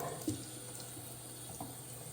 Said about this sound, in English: I'm just going to turn my water down real low here.